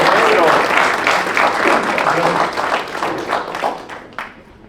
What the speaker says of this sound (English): Round of applause, if you would,